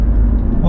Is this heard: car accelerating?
yes